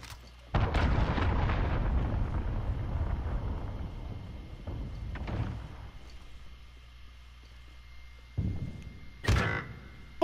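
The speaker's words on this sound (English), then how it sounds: "Enemy cruise missile incoming." A cruise missile strike explodes in a video game, a deep booming blast followed by a long rumbling decay, then more distant thuds and sharp bursts later on.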